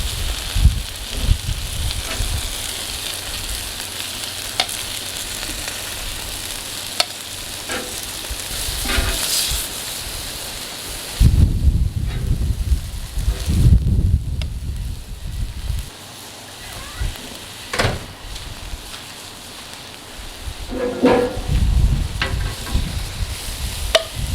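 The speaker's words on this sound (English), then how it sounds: "I like the griddle because it puts like a nice sear on the stuff" Food searing on a Blackstone griddle during meal prep, a continuous close sizzle and crackle with occasional scraping and stirring clatter, a voice speaking briefly in places.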